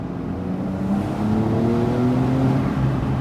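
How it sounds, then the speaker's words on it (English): A Porsche 911 GTS with its sport exhaust set loud in Sport Plus mode revs up hard, a steady close-up engine roar with rising tones that build and hold for about three seconds. "So I've got the exhaust on noisy. I've got it in drive mode in Sport Plus."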